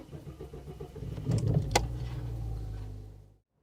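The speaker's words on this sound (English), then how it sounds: "I think I will actually start the engine" A car engine starts up nearby, a low cranking rumble building into a short steady idle before cutting to silence, with a sharp click in the middle.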